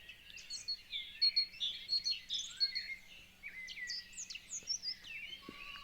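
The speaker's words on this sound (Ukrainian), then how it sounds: "А це так співають пташки." Birds sing and chirp in a lively, overlapping chorus, fairly clear against a quiet background.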